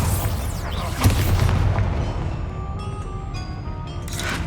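A Bombarda spell blast from the Hogwarts Legacy video game gives a single loud boom near the one-second mark, and a long, rumbling decay with ringing tones trails off behind it.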